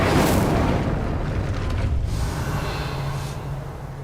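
A deep roaring whoosh of the Incendio fire spell in Hogwarts Legacy, a loud sustained blast of flame that slowly fades over a few seconds, with no voices.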